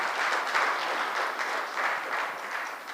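Steady, dense applause from a conference audience fills the hall after a speech at a Kenyan justice report launch, loud and sustained without pause.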